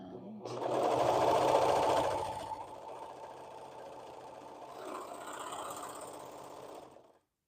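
A sewing machine stitches in close bursts, loudest at first, then continues more softly before stopping abruptly, with a voice talking over part of it.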